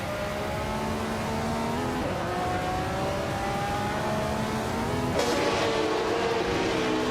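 Race cars in a racing video game roar continuously at high revs, with engine pitch climbing steadily and dropping at two gear shifts, loud and close with no voices.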